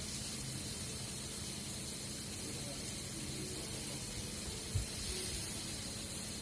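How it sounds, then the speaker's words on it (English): Pork cooking on a barbecue grill outdoors in Thailand, a steady broadband sizzle and hiss throughout with a brief thump near the end. "Get that sizzle."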